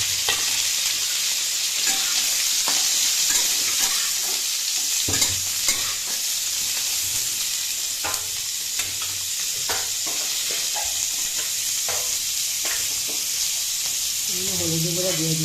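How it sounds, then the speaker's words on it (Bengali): Cauliflower florets fry in a pan with a loud, constant hissing sizzle, while a spatula scrapes and taps now and then through the steady crackle. "তারপরে আমি ফুলকপিগুলি ভেজে নেব"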